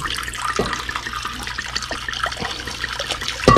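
Liberty Creek Merlot wine pours onto a roast in a slow cooker, a steady liquid trickle and splash with small clinks, ending in a brief louder burst.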